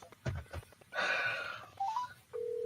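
Telephone dialing tones ring out as a live phone call is placed: a few short keypad beeps, then a sustained tone, faint and alone.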